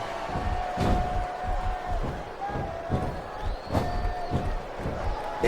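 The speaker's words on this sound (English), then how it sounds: "This capacity crowd is making their opinions known tonight." An arena crowd roars and cheers throughout a wrestling match in WWE SmackDown vs Raw 2007 on Xbox 360, with thumping slam impacts and a commentator talking over the steady crowd noise.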